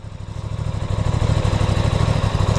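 An Aprilia RS660 inline two-cylinder motorcycle engine idles after a cold start, its steady low rumble gradually building louder and more even.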